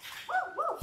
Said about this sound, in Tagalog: may aso nga lang, yung alaga ni tatay, nagbabantay dito sa gate